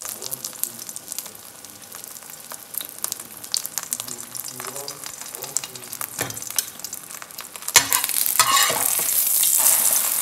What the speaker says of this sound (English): Yes, I'm frying my egg, as you can see it.